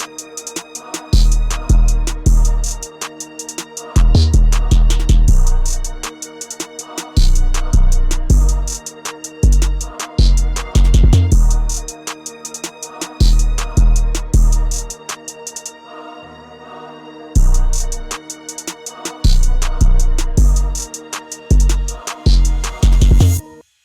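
A dark trap beat made in FL Studio plays loud and close, with booming 808 bass hits, snare rolls and open hi-hats in a repeating pattern, including a brief dropout midway.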